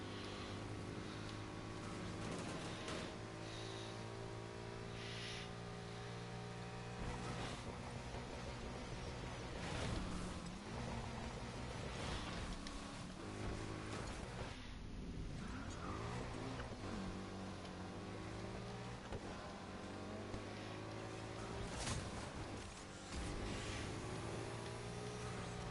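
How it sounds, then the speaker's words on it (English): Car engine in Need for Speed Heat with nitrous boost engaged, a Mustang roaring loudly and continuously as it accelerates, with sharp whooshes and revving bursts throughout. "I'm gonna cheat a little bit and use our nitrous"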